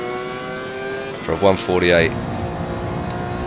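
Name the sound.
Alfa Romeo 155 race car engine accelerating, Gran Turismo 7 video game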